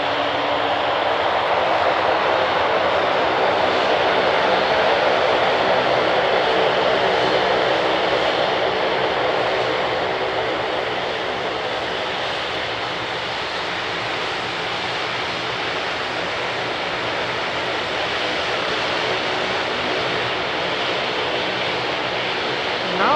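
Airplane taxiing toward the runway at an airport, a sustained loud engine roar and whine that eases slightly midway, heard from a spotting position with no talk.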